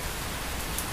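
Rain falling steadily, a dense even hiss of drops with no gaps, loud and close for a brief moment.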